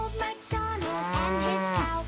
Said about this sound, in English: I am reaching my cow now.